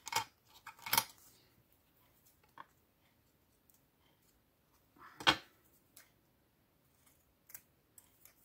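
Paper being cut with scissors during a craft session: a few sharp snips near the mic, a cluster around the first second and another near five seconds, with softer scattered clicks between and no talking.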